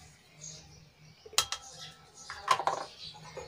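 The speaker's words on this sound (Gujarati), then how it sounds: "હવે આને ખાંડીને આપણે મરચું તૈયાર કરી લઈશું।" Garlic and Kashmiri red chilli are pounded in a mortar, giving a few sharp metallic clinks and knocks in two short bursts over a quiet kitchen background.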